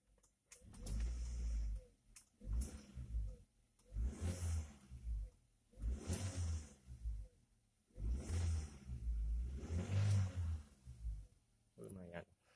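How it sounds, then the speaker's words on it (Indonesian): A 2007 Toyota Avanza G with a VVT-i engine and manual gearbox, revved in about six loud surges that rise and fall, with short gaps of quieter running between them. "Kita dengerin suara mesinnya."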